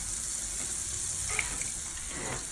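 A stick of butter sizzles in a frying pan on low heat while an omelette is being made, giving a steady, even hiss throughout with a couple of faint ticks and no talking.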